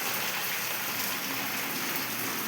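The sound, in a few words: rain starting to fall in a village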